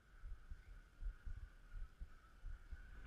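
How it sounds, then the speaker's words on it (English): A man's heartbeat played on a Universal theme park drop ride: steady, low, muffled thumps in a regular rhythm over a constant background hum. "I can hear this man's heart beating."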